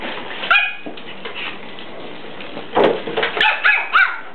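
Pomeranian dogs yap with high, sharp barks and a few whimpers while playing in a kitchen, close and loud, the barks coming in two short clusters separated by quieter shuffling.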